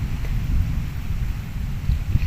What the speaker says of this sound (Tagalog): kumukulog na ang langit